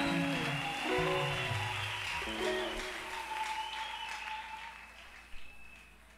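A church congregation at a French and Lingala prayer service bursts into loud, sustained applause under sung or spoken tones, the clapping swelling early and tapering off toward the end.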